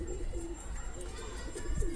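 A pigeon coos in soft, low repeated phrases close by, over a steady background hiss.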